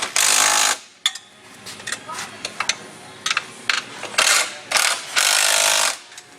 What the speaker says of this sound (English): take your wrench and your socket and just snug them down.